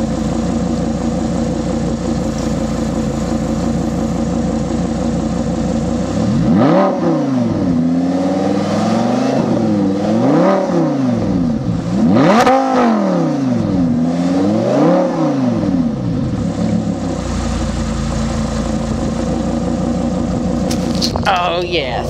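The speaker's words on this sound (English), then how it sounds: "Hear this thing rev." An Audi R8 sports car revs hard while standing still, with a steady engine drone broken by four or five rising and falling blips close by. A voice talks over it.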